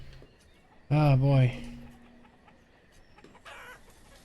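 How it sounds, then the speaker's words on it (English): Chickens in the medieval town-building video game Banished give a short, loud clucking call midway through, then a fainter cluck follows later, while someone speaks briefly. "those chickens sound like they're actually saying derp derp"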